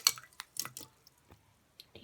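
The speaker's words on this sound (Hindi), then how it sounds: "अब हम पानी समेत ही डाल देंगे ये जो हमने तीनों चीज़ें भिगोई थी, खजूर, किशमिश और बादाम" Soaked dates, raisins and almonds tipped with their soaking water into rice, giving a few short wet splashes and drips close by, then near-quiet gaps and a final small splash.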